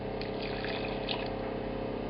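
Beef cooking broth and water are poured into rinsed basmati rice, a steady close liquid stream with a faint gurgle, continuous and without talk.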